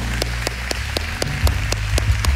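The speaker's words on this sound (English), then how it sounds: "Can we give God a round of applause?" Church congregation applause after a sermon prayer, scattered claps over a low rumbling background, with a few sharp, regularly spaced claps standing out.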